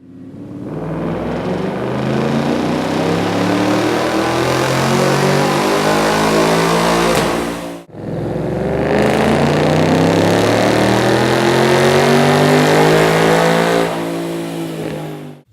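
A 2014 Ford Mustang GT with its 5.0L V8 and an AEM cold air intake revs loudly in two long sustained pulls, rising and holding, separated by a brief drop in the middle.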